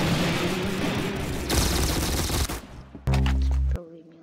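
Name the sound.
grease gun gunfire in Roblox Arsenal video game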